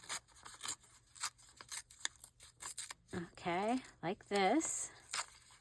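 Book page paper being cut and torn into ready edges, a run of crisp snips and ripping bursts over the first three seconds, then someone talks briefly before a few more cutting sounds.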